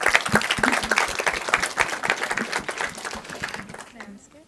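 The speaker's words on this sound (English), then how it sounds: "One round of applause." An audience at a visiting president's talk gives a round of applause, lively mixed clapping at close range that gradually thins and fades out toward the end.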